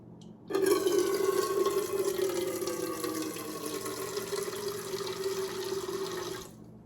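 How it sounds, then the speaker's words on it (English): Melted coconut soy candle wax streams steadily from a pouring container for about six seconds, a close, continuous liquid pour with a gentle trickling hiss that tapers off at the end. "I'm simply going to pour 8 ounces of wax."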